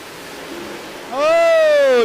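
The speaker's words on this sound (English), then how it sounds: "Oh, tire spin for both." Drag racing cars at the Snowbird Outlaw Nationals in Bradenton spin their tires at launch: after a steady roar, a loud rising whine and engine scream bursts in near one second and holds, strong and close.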